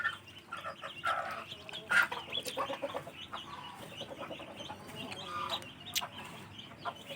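Chickens cluck and squabble at a farmyard coop, with short, irregular bursts of clucking and scuffling over a quiet, fairly distant background.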